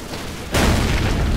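Rocket blast striking a tree in the blocky shooter Ace of Spades, a sudden loud boom that cuts in partway through and then rolls on as a dense, sustained roar with no voices over it.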